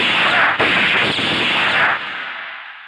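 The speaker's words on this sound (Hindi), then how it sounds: "ये गोलियां तो हवा में चली हैं," Gunshots fired into the air during a tense standoff in an action film, a loud sustained burst of gunfire with a sharp crack partway through, then fading away.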